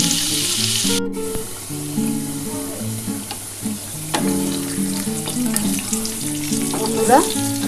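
Potatoes for a mutton curry fry in hot oil with a dense, continuous sizzle and bubbling hiss, loud and close, with occasional spatula scrapes and clinks, no voices, under a faint steady hum.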